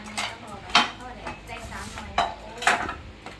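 Metal pots and utensils clank and scrape in a few sharp, irregular knocks close by, with quiet background noise between them.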